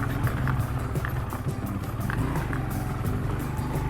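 Motorcycle engine labouring steadily in first gear up a steep, hard mountain road in Kashmir's Shounter Valley, a continuous low rumble that stays close and loud throughout with no pauses.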